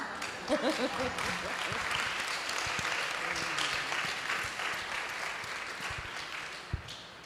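Audience at a plenary session applauds in a steady, full round of clapping, with a voice briefly audible at the start and the clapping tapering slightly toward the end.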